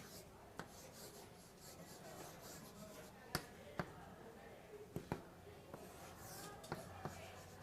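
Chalk strokes and taps on a board in a university calculus lecture, sharp clicks spaced irregularly among quieter scratching, faint and distant under the lecturer's speech.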